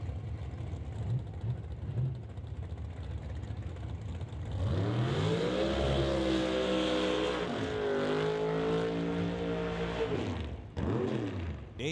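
Drag racing cars at the West Coast Classic strip, engines idling and rumbling before a dragster launches into a long, loud, roaring run that holds steady for several seconds and then cuts off abruptly.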